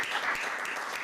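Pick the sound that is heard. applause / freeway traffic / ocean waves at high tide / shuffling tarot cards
applause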